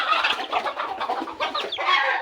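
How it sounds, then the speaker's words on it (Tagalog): Chickens clucking nearby, a busy run of overlapping clucks and chatter from several birds. "Sunod ang manok guys."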